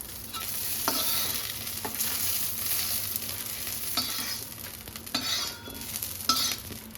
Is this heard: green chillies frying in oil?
yes